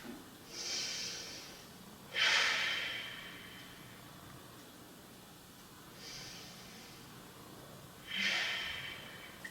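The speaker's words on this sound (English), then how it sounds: "So let's now take a few more deep breaths" Slow, deep breathing during seated chair yoga: four soft airy inhale and exhale swells, close and quiet, evenly spaced with calm gaps and no talking.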